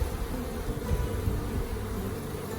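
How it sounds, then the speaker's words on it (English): Honey bees buzzing and fanning their wings at an accepted hive during a house removal, a dense, steady close-up drone of many insects with no voices. "And you can see some of them fanning their wings and stuff."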